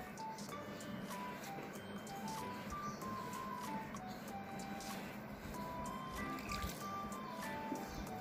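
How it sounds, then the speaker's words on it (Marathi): Water is added bit by bit to a fine semolina dough as it is kneaded by hand, giving quiet, soft squishes and wet drips, with faint tonal music in the background. "आता याच्यामध्ये आपण थोडं थोडं पाणी घालून मळून घेणार आहोत."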